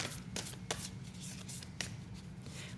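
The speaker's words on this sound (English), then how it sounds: "These are literally the hardest cards in the world to shuffle." A deck of stiff, hard-to-shuffle oracle cards is shuffled close by by hand, in quiet bursts of riffling with soft slaps and rustles in between.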